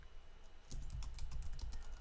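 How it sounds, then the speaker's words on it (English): Fingers tap out a short burst of quick, light keystrokes on a computer keyboard, close and fairly quiet, continuing steadily for a couple of seconds. "and then type in the Latin name"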